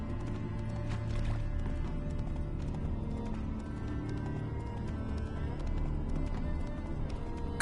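Roach, a horse in The Witcher 3, gallops in a steady, rapid clip-clop of hooves, close and continuous throughout, with a brief whinny early on.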